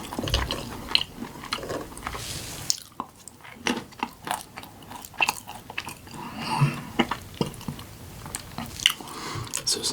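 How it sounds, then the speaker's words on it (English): Crunchy unsalted cashews chewed close to the mic in a quiet, whisper-style snack session, with repeated crisp bites and grinding crunches in an irregular rhythm. "I think I'm gonna go for some cashews now."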